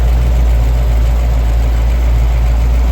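GM LT1 5.7 liter V8 idling in a 1932 Ford Roadster street rod with tubular headers, a loud steady deep rumble heard up close with no voices.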